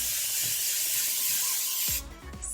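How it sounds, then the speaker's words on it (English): Cooking spray hissing steadily from a can onto baking pans for pound cake, a continuous close, loud spray lasting nearly two seconds before cutting off, followed by a few light clanks of pans. "spray your pans."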